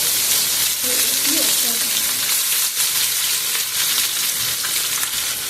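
Fish frying in very hot, smoking oil, Kerala hotel style: a steady, loud, close sizzle that fills the whole stretch without a break.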